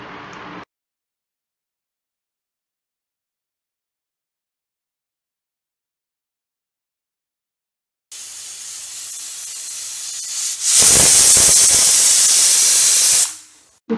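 A pressure cooker on a stove, cooking chopped ambazham (hog plum) with salt, turmeric and water, lets out a loud, close steady hiss of steam that rises to a roaring whistle-like burst after a long silence, then cuts off.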